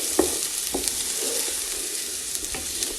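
Finely cut onions sauté in oil in a pan, a close, steady sizzle with a few soft clinks and scrapes from stirring, continuous and fairly quiet.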